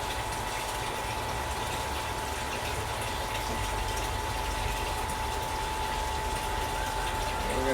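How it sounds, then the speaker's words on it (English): Water pours steadily from a hose or pump into a vessel while strike water is filled for brewing a double chocolate stout, a constant gushing hiss with a faint tonal hum and no talk. "I'm filling up some of the strike water here so that we have enough to sparge."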